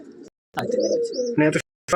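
Madrasi pigeons in a loft give short, soft cooing calls, a few brief bursts close by with gaps of silence between them.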